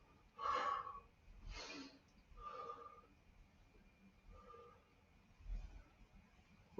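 Rhythmic breaths during a guided morning wake-up exercise session, a series of soft, evenly spaced inhales and exhales, fairly faint, roughly every second or so, with no talking over them.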